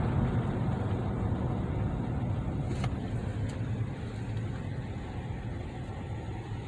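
A 2009 Chevy Tahoe LT cruises along the road, its engine and tire noise forming a steady, even low rumble from inside the cabin, quiet and unbroken with no talk.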